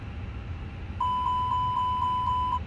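A fire test warning alarm for engine 2 in a Fenix A320 flight simulator, a steady high electronic tone with evenly spaced pulses that starts partway in and sounds alone, clear and loud over a low background rumble.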